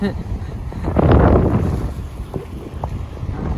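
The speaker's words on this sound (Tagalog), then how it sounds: "Mahangin-hangin lang muna tayo dito." Gusty wind buffets the microphone with loud rumbling bursts, swelling and easing, with faint background noise.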